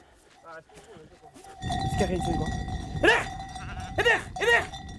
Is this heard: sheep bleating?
yes